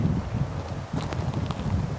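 Steady gusty cold wind buffets the microphone in Colorado at about 7,000 feet, a low rumbling roar with brief rustling bursts, no voices.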